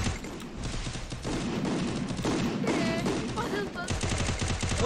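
Rapid gunfire bursts and machine-gun fire from a Free Fire-style 4v4 shooter match, loud and sustained with dense clustered shots, mixed with game effects.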